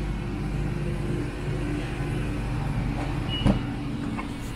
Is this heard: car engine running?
yes